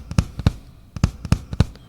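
A drum kit bass drum plays a double-stroke pattern: pairs of close, punchy low thumps come in a quick, repeating rhythm, with short gaps between the groups, and no voices over them.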